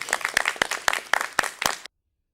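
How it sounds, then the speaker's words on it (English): A small audience at a church talent gathering giving a round of applause, about a dozen sharp separate claps in an uneven rhythm, close and distinct, stopping abruptly after two seconds. "give yourselves a great big round of applause"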